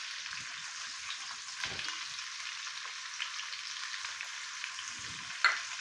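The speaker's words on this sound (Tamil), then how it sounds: "சின்ன வெங்காயம் 2 நிமிஷம் எண்ணெயில் ஃப்ரை ஆகணும்" Small shallots fry in oil with asafoetida, producing a close, steady hissing sizzle throughout with a few soft stirring scrapes and one brief clink near the end.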